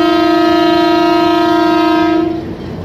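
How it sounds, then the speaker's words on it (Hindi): Express train sounding its departure whistle at a railway station, one loud sustained multi-tone horn blast held for over two seconds before cutting off, leaving quiet station ambience. "और डिपार्चरिंग विसल।"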